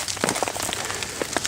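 Steady rain patters on a tarp or poncho shelter outdoors, with a dense, continuous spatter and scattered heavier drops tapping close overhead; no talking.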